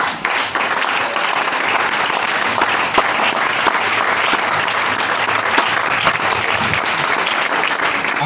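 A church congregation applauding in worship, a dense sustained burst of clapping from many hands that fills the room steadily from start to finish, with no talk over it.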